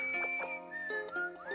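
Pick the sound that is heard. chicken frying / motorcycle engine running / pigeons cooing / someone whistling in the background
someone whistling in the background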